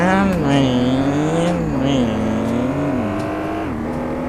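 A car engine revs in the mobile game Car Parking Multiplayer, its pitch climbing, dropping back and climbing again as if shifting through gears, loud and steady throughout.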